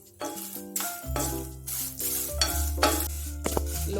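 Coriander seeds, black pepper, chilies and curry leaves frying on a low flame, heard as close, rhythmic bursts of stirring and scraping over a steady sizzle and a low hum.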